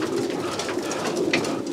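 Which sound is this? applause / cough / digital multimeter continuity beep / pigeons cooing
pigeons cooing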